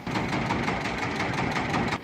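A steady, close fishing trawler engine idles at sea off Saint Martin's Island, Bangladesh, with a low, rumbling drone and faint rhythmic knocking, continuous for about two seconds before easing off slightly.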